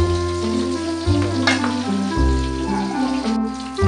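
Garlic frying in cooking oil in a home kitchen gives a steady, close sizzle, with sustained tonal background sounds running underneath.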